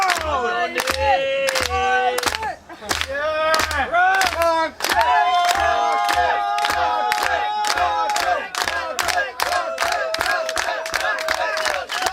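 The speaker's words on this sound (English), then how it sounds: "we need a slow, rhythmic clap" At a roast event, a crowd claps in slow, evenly spaced beats, each clap sharp and loud, while voices shout and chant along throughout.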